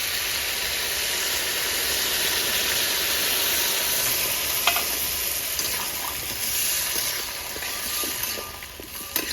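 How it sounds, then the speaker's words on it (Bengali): Water goes into a hot pan of drumstick, potato and poppy seed curry, raising a loud, steady sizzle and hiss with occasional faint stirring clicks. "তো এবার দিয়ে দেবো জল।"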